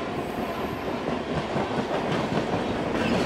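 Purba Express running on the chord line, heard as a steady rolling rumble of train wagons with rhythmic clickety-clack of wheels over rail joints, fairly close and continuous.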